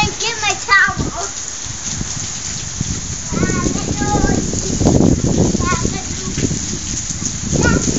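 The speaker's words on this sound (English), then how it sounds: "It's raining so hard!" Heavy rain falls in a steady broadband wash during a rainstorm while a child and an adult talk over it.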